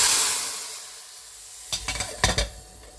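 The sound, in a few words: tempering for Gujarati kadhi sizzling while being mixed in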